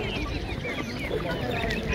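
Chickens cluck steadily at an outdoor bird market in Kropotkin, a dense, continuous flock murmur with busy crowd noise and some talking underneath.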